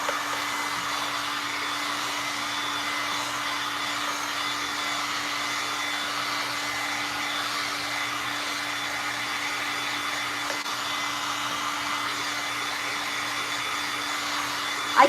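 A fan runs with a steady broadband whoosh and a constant low hum throughout, unchanging and fairly faint, with no talking.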